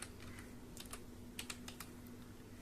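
Quick, quiet keystrokes patter on a computer keyboard as commands are entered at a Windows recovery prompt, an uneven run of soft clicks over faint background hum.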